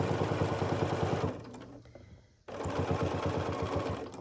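A sewing machine stitches binding onto a quilted Christmas stocking, running in a fast close rhythmic chatter, pausing briefly into a low hum and near-silence, then resuming at full speed.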